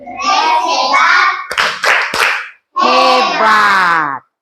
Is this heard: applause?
yes